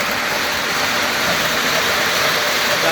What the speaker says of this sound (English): Let's get one last look at the diesel engine.